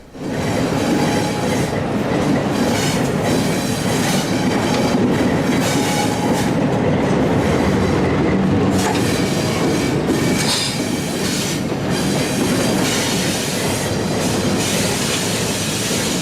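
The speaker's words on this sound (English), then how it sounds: "the train exits the steep McLean Mill spur and rejoins the old CP main line" CPR RS3 diesel locomotive hauling a passenger train slowly along an old main line, loud continuous rumble with wheels squealing on the rails and rhythmic clicking over joints, close and steady throughout.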